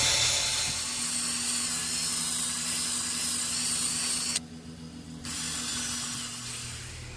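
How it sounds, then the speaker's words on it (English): A power drill whines steadily with a wire brush grinding rust off metal, cutting out briefly midway before resuming, loud and close. "So get this wire brush and my drill."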